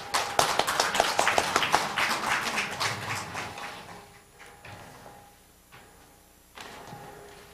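A smaller audience claps ahead of a lecture, a brief round of distinct, fairly close hand claps that tapers off after a few seconds into quiet room noise with a few stray sounds.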